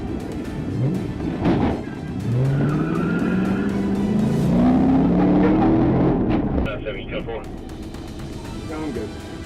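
A car doing donuts in a parking lot on Oak Street squeals its tires in long rising and falling screeches under engine roar, loud and close, with a voice speaking over it.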